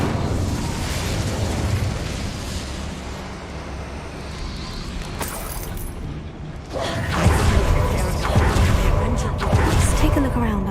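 Incendio fire spell cast in the Hogwarts Legacy video game, a dense roaring rush of noise that carries on steadily, then swells with a sharper crackling burst partway through.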